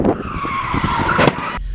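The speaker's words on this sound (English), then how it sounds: "I guess I'll do one of these burnouts I see on TV" A Mustang GT spins its tires in a burnout, a loud, rough skidding squeal over engine roar that cuts off abruptly near the end.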